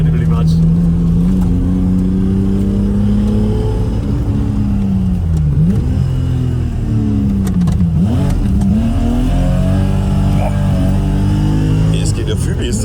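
A BMW E34 M5 engine revs hard while the car drifts, its pitch rising and dipping as the throttle works, loud and continuous. The wheels are badly out of balance, and talk runs over the engine.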